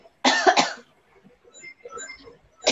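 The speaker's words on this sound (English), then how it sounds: "I apologize that I'm coughing so much," A person gives a sharp burst of two or three harsh coughs up close, followed by quieter throat noises and breathing, then the start of another cough.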